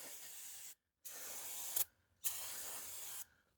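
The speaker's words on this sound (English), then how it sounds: "I have some brake cleaner here, and I'm just going to spray it down a little bit to break that loose a little bit." Brake parts cleaner sprayed from an aerosol can onto the engine bay of a 1989 Chevrolet Cavalier Z24, heard as three loud, steady hissing bursts separated by short pauses, with no talking.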